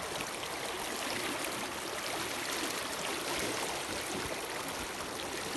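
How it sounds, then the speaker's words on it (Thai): Strongly flowing water of the Nam Phong river, a steady, loud, broadband rush that holds constant throughout with no pauses and no voices. "น้ำแรงครับ"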